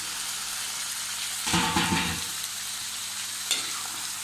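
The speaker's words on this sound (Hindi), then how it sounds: "डेढ़ किलो चिकन है, इसे भी हम अब इसी के साथ डाल देंगे और इसे अच्छे से फ्राई कर लेंगे।" One and a half kilos of chicken frying in oil in a pan for qorma make a steady sizzle. A louder burst of stirring and scraping breaks in partway through, then another brief clatter, with no speech.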